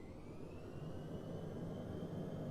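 An F-22 Raptor jet engine in Microsoft Flight Simulator holds a steady, full-bodied roar with a faint rising whine above it. The noise stays constant and loud throughout, with no voices.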